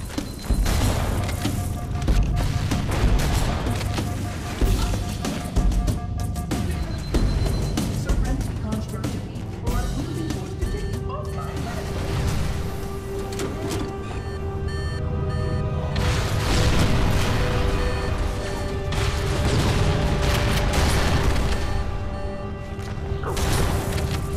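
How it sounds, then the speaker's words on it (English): Fusion reactors exploding in Halo: The Maw: repeated heavy crashes and booms sound amid dense, clattering game action, and the loud mix runs continuously without a break. "Use explosives on the other 3 reactors."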